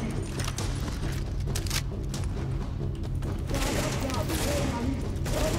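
Dense, continuous gunfire in the shooter game The Division rattles as rapid bursts and volleys throughout, with game sounds underneath and no clear speech.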